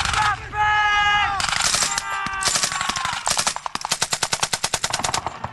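Rapid bursts of automatic gunfire from a battle reenactment of urban combat, loud and close, with sharp repeated cracks building into a fast rhythmic volley; a voice is briefly heard amid the shots.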